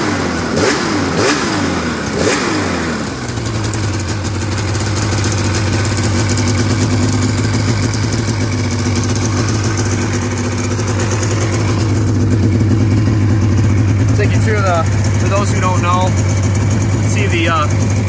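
An engine fitted with new spark plugs is cranked with the key, catches, and settles into a smooth, steady idle with no misfires, holding an even low hum throughout while someone talks over it.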